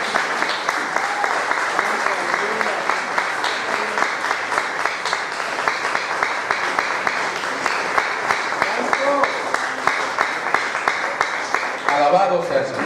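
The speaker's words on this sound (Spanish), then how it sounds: "Denle un aplauso al Señor en este día." A church congregation at a Spanish-language congress service applauds loudly and steadily for the whole stretch, dense clapping with voices mixed in and a brief cheer near the end.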